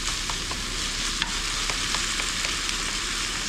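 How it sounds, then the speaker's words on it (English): Food stirred in a cooking pot at a springtime campsite in Deception Pass State Park crackles with a dense, even sizzle, broken by a regular run of soft scraping strokes from the spoon. "let's give this a stir"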